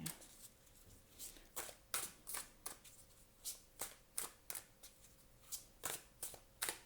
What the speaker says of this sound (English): I'm going to shuffle for January first